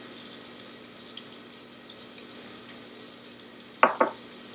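Ragu ingredients sautéing in a pan, a faint, low sizzle with a few soft stirring scrapes and two sharper clinks near the end, quiet and without talk.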